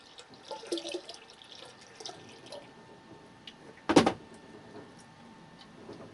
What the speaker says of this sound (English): And then we'll top it off with water.